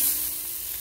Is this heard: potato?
yes